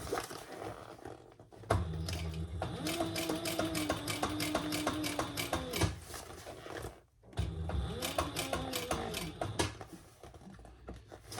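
A sewing machine runs steadily through the thick center of a crossbody bag, its motor hum and needle chatter continuing for several seconds, pausing briefly, then resuming at a slow, even pace.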